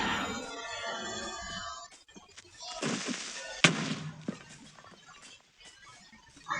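An explosion goes off near a house in a video game, a sudden loud burst with crackling debris, following a stretch of mixed game noise and followed by scattered smaller bangs.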